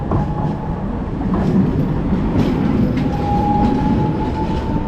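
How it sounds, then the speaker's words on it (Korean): A tram rumbles past on a city street in Croatia with a low steady roar, wheels clacking on rails and a thin squeal rising briefly partway through. "이렇게 쬐깐한 트램이 있고 큰 트램이 있는데"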